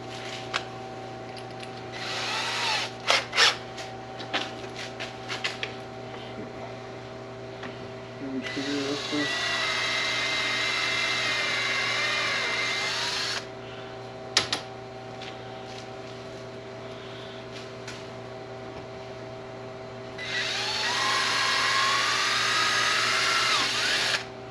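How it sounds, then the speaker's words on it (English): A power drill boring through a pipe while mounting equipment on a John Deere 60D mower whirs in two long sustained bursts, close by, with clattering and handling noises between them. "Now I did drill right through the pipe"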